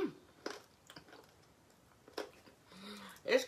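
Biting and chewing Louisiana-style spicy fried chicken with crunchy, crispy batter: a few sharp crunches and soft squishy chewing noises, close to the mouth, with brief bits of voice between them.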